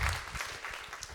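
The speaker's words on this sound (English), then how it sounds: "you can give him a round of applause" An audience at a tech meetup applauds a speaker, a short burst of soft, scattered clapping from a small indoor crowd.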